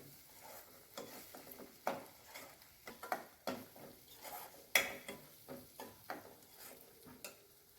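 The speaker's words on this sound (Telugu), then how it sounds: "కొంచెం సాల్ట్ వేసుకుందామండి కొంచెం అలా వేయించుకుందామండి" Frying in a pan with a little salt while making Telugu prawn curry: a faint background sizzle under repeated, rhythmic scraping and tapping of a spoon against the pan, fairly close and quiet.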